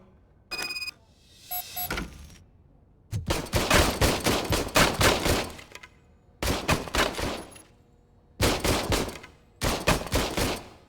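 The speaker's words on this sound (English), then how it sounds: "I was issued this old gun and serviced it according to the manual. I will try it out." An old service gun fires in RoboCop: Rogue City, with loud, close bursts of gunfire split into several separate volleys and short quiet gaps between them.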